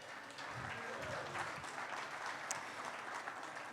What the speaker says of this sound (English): Big round of applause for the crew,